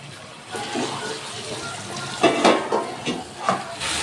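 Potatoes tossed into a hot pan for a fish curry with homegrown flat beans crackle and sizzle, with scraping stirs and a few sharp clattering bursts over a steady frying hiss.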